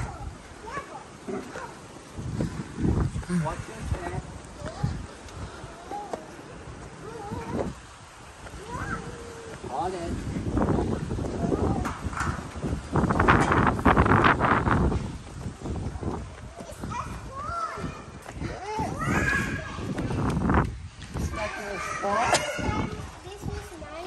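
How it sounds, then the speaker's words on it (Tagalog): Steady wind gusts blow across the microphone outdoors, rising and falling, with people talking nearby throughout. "Ang lakas na naman ng hangin."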